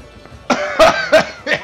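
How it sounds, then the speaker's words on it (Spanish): Coughing in the video game Beyond: Two Souls, a quick series of four harsh coughs, close and loud, with no talk over them. "¡Ay, qué tos más grande!"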